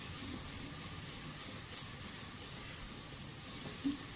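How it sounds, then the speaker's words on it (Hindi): Chopped onions fry in a clay pot while cooking aloo palak, making a faint, steady, close sizzle with a small pop near the end and no talking. "प्याज को थोड़ा सा ज़्यादा फ्राई करना है।"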